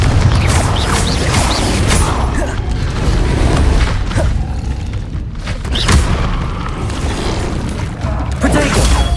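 Confringo blasting spell in Hogwarts Legacy, loud rumbling explosive booms layered with crashing debris and mechanical clatter that continue heavily for several seconds.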